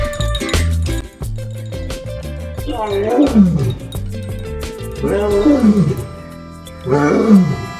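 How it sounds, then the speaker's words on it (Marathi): A tiger roars at a zoo, loud and close, in three rising-and-falling roars with grunting breaths between them. "तरी आजूबाजूला आपल्याला वाघाचे आवाज येत होते"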